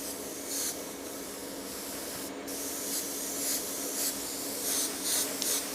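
Soft, steady airy hiss of an airbrush spraying Crawford & Black acrylic ink, with faint brushing swells rising and falling; no voices.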